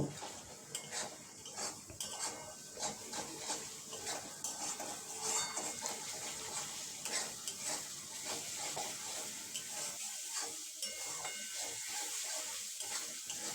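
Spice masala for dhaba-style masala paneer, loosened with a splash of water, stirred and scraped in a pan: steady clinking and scraping strokes throughout, close by, easing slightly toward the end.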